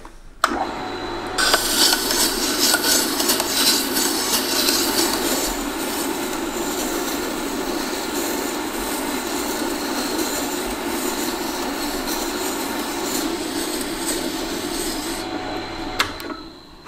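A skew chisel's bevel is ground on a bench grinder, a loud continuous abrasive rasp of steel against the wheel lasting about fifteen seconds, with a clack at the start and end.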